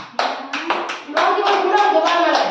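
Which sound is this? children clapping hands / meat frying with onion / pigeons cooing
children clapping hands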